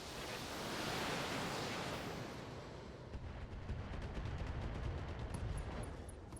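An ammunition explosion in the Battletech: Heavy Metal video game roars as a loud, dense blast, then breaks into sustained crackling and rumbling debris, with no talking over it.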